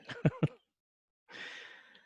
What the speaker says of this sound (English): it's mostly silence with some heavy breathing